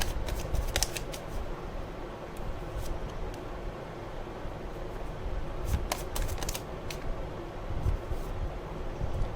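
Tarot cards are shuffled close by at low volume, giving a soft, continuous papery riffle broken by sharper flicks and snaps, with no talking.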